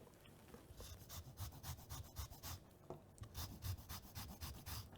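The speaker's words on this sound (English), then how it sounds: "Lemon zest." Lemon zest being grated for a homemade tortellini filling, a steady run of close, rapid rasping strokes that scrape on without pause for the whole stretch.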